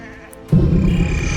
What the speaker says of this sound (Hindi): भेड़ों ने उसका एहसास कर लिया था और उन्होंने मेमनाना शुरू कर दिया।